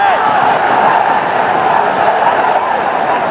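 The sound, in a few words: cricket crowd cheering in stadium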